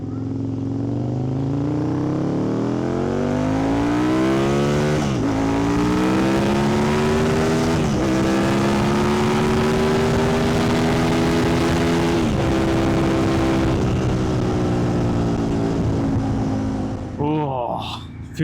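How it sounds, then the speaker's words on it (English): Aprilia Tuono 1000 naked motorcycle engine heard on board while riding: a loud, continuous growl whose pitch climbs steadily and then dips at each of several gear changes, with a brief throttle blip near the end. "It's such a lovely bike to ride."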